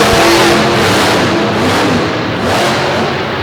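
A monster truck engine roars at full throttle through a jump at a DuQuoin arena show, a loud, steady, near growl with a slight dip and rise in pitch.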